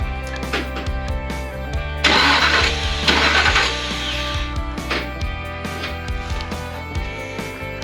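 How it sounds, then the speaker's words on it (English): A car engine with its distributor set out of time turns over with rapid, rhythmic cranking pulses, loud and close, surging briefly in the middle as the starter keeps spinning without a voice over it. "I'm going to turn the engine over"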